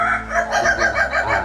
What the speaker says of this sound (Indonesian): Itu namanya ayam ketawa.